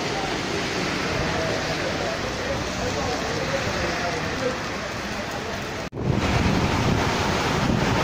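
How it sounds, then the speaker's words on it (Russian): A heavy rain squall with wind in George Town, Penang, a loud continuous roar of downpour and gusts pressing on the microphone, with a brief dropout before the rush returns even stronger. "Пережидаем дождь, который шквал."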